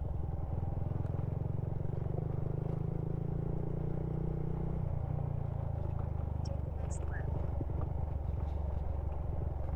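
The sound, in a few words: rattling motorcycle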